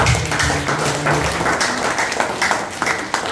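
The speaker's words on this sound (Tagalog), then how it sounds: "Isang palakpak na po." Church congregation clapping together, a dense steady patter of many hands close by, continuing at even loudness with a voice faintly heard under it at the start.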